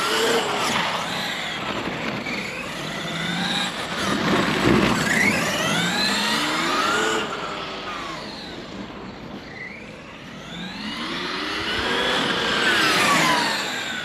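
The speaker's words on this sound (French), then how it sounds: "le moteur en tout cas il peine pas du tout avec ce pignon" A MCD XR5 radio-controlled car's motor runs in bursts, its whine climbing and falling in sweeping arcs as the car speeds past and away, fairly loud and heard without talk.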